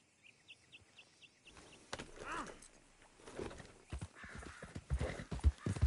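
Horse hooves clip-clop at a steady walking rhythm in Red Dead Redemption 2 on PS4, starting faint and growing louder and closer, with scattered sharp hoof strikes near the end and a few high bird-like chirps early on.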